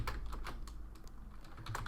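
Steady computer-keyboard typing of a line of code in Unity while building a 2D card game, with quick clustered keystrokes close to the microphone and no one speaking.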